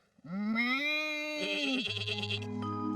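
Goats bleat close by, a long wavering cry followed by a lower, shorter one.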